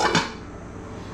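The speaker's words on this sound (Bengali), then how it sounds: "এবার ঢাকনাটা খুলে" A pot lid lifts off a simmering jackfruit and chicken curry with a single brief metallic clank, followed by a faint, steady background hiss.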